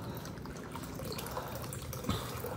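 Water trickles and drips steadily from a large homemade solar water purifier outdoors, a continuous close splashing patter with one slightly louder splash near the end and no talking.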